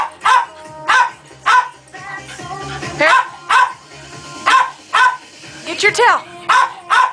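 A paraplegic dog barks repeatedly in short, loud bursts, roughly one per second, with a few yips mixed in, close by, while a person talks over and between the barks.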